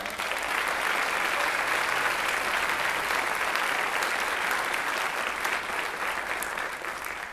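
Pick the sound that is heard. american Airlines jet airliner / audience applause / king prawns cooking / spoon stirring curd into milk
audience applause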